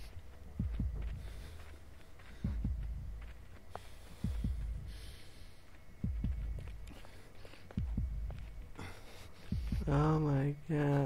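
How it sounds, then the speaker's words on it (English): A heavy, muffled heartbeat thumps in steady pairs, about every two seconds, from a bleeding character in the Miscreated survival video game, with a low hum beneath and a brief voice near the end. "I can hear my heartbeat."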